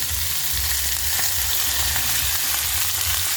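Vegetables frying in a pan with garlic and spices over low heat give off a steady, even sizzle that runs close and unbroken for a few seconds.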